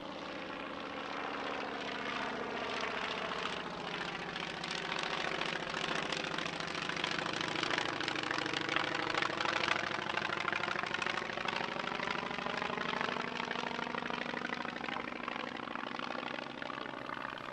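A Polikarpov Po-2 biplane's engine runs at an airshow in Britain, a steady droning propeller roar that rises and falls slowly as the aircraft passes, continuous and without talk.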